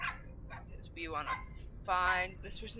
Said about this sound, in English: I hate that damn dog.